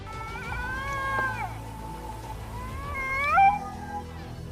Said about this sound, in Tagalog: Ang Canada lynx ay isa sa pinakamaingay na hayop